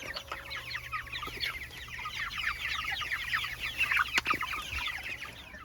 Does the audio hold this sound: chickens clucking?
yes